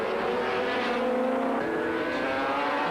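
A Skull Bandit Suzuki racing motorcycle's engine screams continuously through corners, its pitch rising and falling as it brakes and accelerates, heard from a moderate distance.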